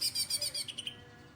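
A green leafbird gives a rapid series of bright, high chirps, about eight quick notes close by, trailing off into quiet.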